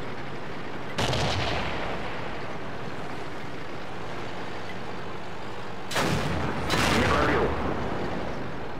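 Tank cannon shots in World of Tanks, including from an E25, land as two sharp booming blasts with rumbling tails over a steady engine drone, the second shot followed closely by an echo.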